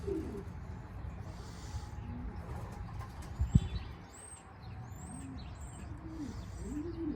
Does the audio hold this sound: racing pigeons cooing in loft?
yes